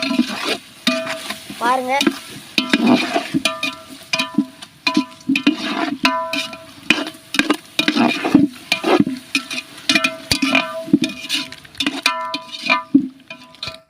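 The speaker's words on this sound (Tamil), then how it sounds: "இப்போ இஞ்சி பூண்டு பேஸ்ட் போட போறோம்." Ginger garlic paste sizzles in a pot for chicken biryani while a spoon stirs it with repeated scraping clatters, loud and close, with brief talk over it.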